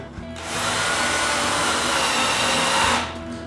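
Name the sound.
power drill setting rods into a wooden tripod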